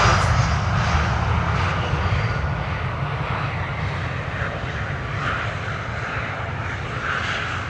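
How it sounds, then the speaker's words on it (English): KLM Embraer E195-E2 jet arriving at Amsterdam Schiphol, a loud continuous engine roar with deep rumble and a broad whooshing hiss, slowly easing off as the aircraft passes, with no voices. "There's an E2 Embraer 195 from KLM."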